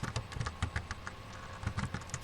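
Keys clatter on a computer keyboard in quick, uneven bursts, close and fairly quiet, with no talk.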